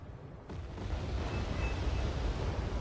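Napalm and mortar explosions rumble in Wargame Red Dragon as a low, sustained roar that swells after a brief quieter opening and stays heavy throughout, with no speech.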